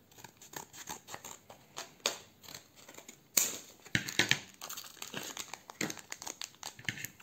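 Scissors snip open a Dragon Ball Super trading card booster pack, with sharp cutting clicks and crinkling foil wrapper, close and quiet, in short irregular bursts.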